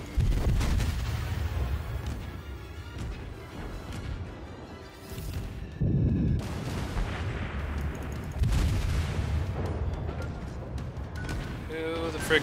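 Naval gunfire from warships in World of Warships, heavy booming shell impacts and rumbling blasts over continuous battle noise, loud and close, with someone talking over it.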